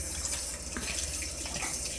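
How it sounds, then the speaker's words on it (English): Water running from a tap into a bowl of masa being mixed for sopes and tortillas, a steady close splashing flow lasting throughout with no talk over it. "we're gonna add some water"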